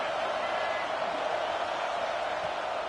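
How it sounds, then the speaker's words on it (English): A home stadium crowd in the video game College Football 26 roars loudly and steadily, a broad wash of cheering that never lets up. "how nice is it to have the home crowd going absolutely bananas?"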